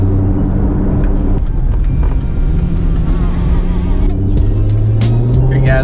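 A car rolls along just before joining a highway, with a steady low engine drone and road rumble that rises a little in pitch near the end, loud and close from inside.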